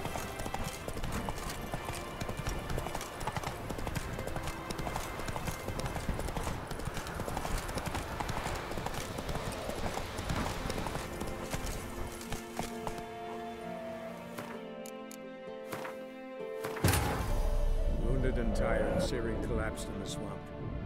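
Roach, Geralt's horse in The Witcher 3, galloping with a steady rapid clip-clop of hooves under game music and voices, the hoofbeats fading out near the end as the scene shifts.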